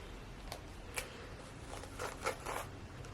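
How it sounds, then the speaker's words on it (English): Stiff-bristled Tangle Teezer brush drawn through wet curly hair, a series of soft, close scratchy strokes with brief raspy bursts, quiet overall with no talking. "you can actually hear this brush like combing through my hair because the bristles are a lot stronger"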